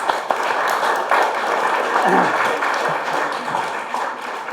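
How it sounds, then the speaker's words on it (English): Listeners applaud Professor Andrew Peacock at the close of a lecture on Melaka and the Middle East, a steady, moderately loud patter of many hands with some voices mixed in. "Please give him a round of applause."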